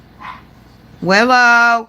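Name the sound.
dog barking at passers-by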